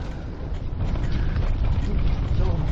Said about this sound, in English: Quite a few bit of gusting wind coming through that little gap then.